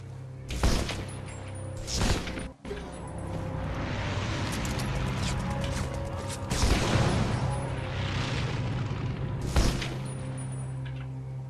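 Heavy explosions from bombs dropped in the war shooter Brothers in Arms 3, several loud booming blasts spaced a few seconds apart over a continuous roar of battle and gunfire, with no talk.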